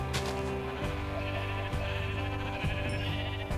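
Sheep bleat repeatedly in the Minecraft video game, several loud, close calls over continuous game background sound, with no one talking.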